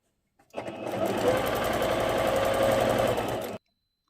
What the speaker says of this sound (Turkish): Şöyle birleştirerek dikimimizi yapıyoruz ilk aşaması. Önce dikiyorum sonra ovarla onu gideceğim.